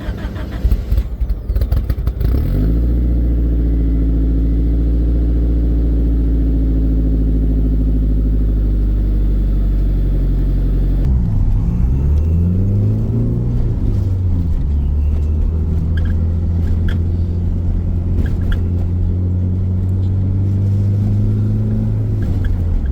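A Honda Talon side-by-side starts up and drives toward a base in Tucson, its engine rumbling close and loud, then revving and shifting with rising and falling pitch as it pulls away and cruises steadily.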